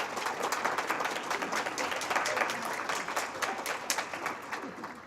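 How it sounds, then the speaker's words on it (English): Steady audience applause at an awards ceremony, many hands clapping densely and loudly for the full stretch, with faint cheering mixed in from the crowd. "Nice to see the cheering crowd out."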